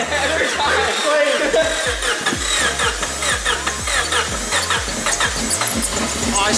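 A revived old car engine turns over and catches, then runs on its own with a loud, steady, slightly uneven throbbing idle and some squealing, close by, with voices over it.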